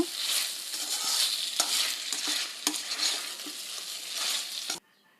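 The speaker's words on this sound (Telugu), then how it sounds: "ఇలా ప్రాపర్గా ఒకసారి మిక్స్ చేసుకోవాలి అనమాట" Egg manchurian is mixed in a frying pan, a busy close hiss of frying with repeated spatula scrapes and clicks that stops abruptly near the end.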